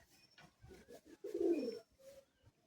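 Madrasi high-flying pigeons coo in short low bursts at close range, with one fuller, louder coo in the middle among quieter soft calls and faint rustling.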